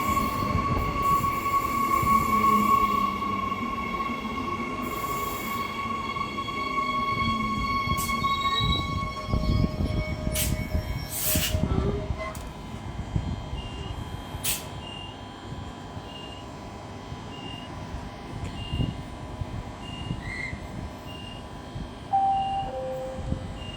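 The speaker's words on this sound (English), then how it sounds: "I'm guessing there's going to be 3 more diesel trains." A diesel train moves through a suburban station with a low engine rumble, squealing wheel tones and high metallic whines, plus sharp clanks midway, sustained and fairly close.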